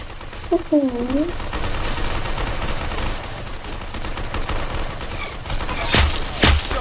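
Gunfire in a video game, a few sharp shots and bursts scattered across the stretch, the loudest pair near the end, over a busy layer of game noise and occasional talk.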